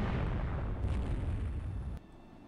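A 12-inch coastal battery fires in the naval strategy game Rule The Waves 2, a heavy, rumbling boom that stays loud and sustained before cutting off abruptly near the end.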